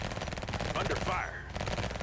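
Rapid gunfire in the EMERGENCY video game, a dense burst of shots rattling under game sounds, with a short synthetic sweep partway through.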